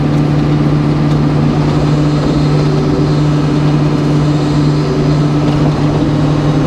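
A sawmill engine runs at a steady, loud drone with a strong low hum while warming up before sawing a cherry log with red rot.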